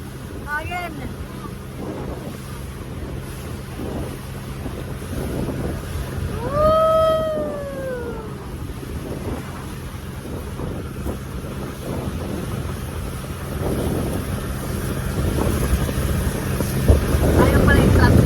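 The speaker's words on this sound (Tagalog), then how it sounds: "Lakas ang hangin." Strong wind buffets the microphone during a boat ride off Boracay, with a steady low engine drone and water rush, a brief whistle-like tone mid-clip and voices talking faintly underneath.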